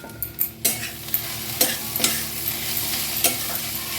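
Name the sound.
stirring water spinach greens in a pan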